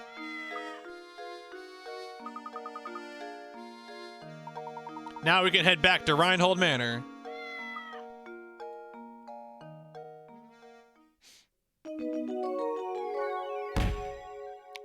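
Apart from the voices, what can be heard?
cat meowing in video game Professor Layton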